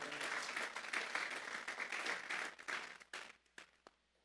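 A church congregation claps together as an offering of applause to God during a Spanish-language sermon on Psalm 51, with dense sustained clapping that thins out into scattered claps near the end.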